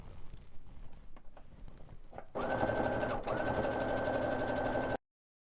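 A Baby Lock Brilliant sewing machine stitches a stretchy onesie neckband, a brief pause and light handling noises first, then a loud, steady whirring run with one short hitch midway before stopping abruptly.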